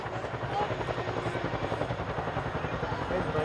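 RAF Chinook twin-rotor helicopter displaying at Cosford airshow 2018, hovering before a climbing corkscrew; a loud, steady rotor roar with rhythmic blade thumping fills the whole stretch, with commentary faintly under it.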